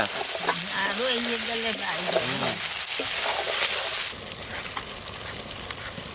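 Duck meat sizzles as it is sautéed in oil in a pot, a continuous close crackle and hiss under a voice that talks over the first part and then stops.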